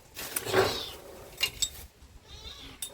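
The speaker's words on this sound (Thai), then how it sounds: "อะไรแมวน้อยตัวนี้เนาะ" A cat meows once, drawn out and fairly close, followed by a couple of short sharp noises and a fainter rising call later.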